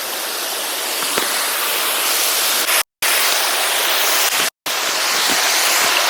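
The first waterfall at Morialta Conservation Park roars in a loud, steady broadband rush of falling water, close and continuous apart from two brief dropouts, with no voices.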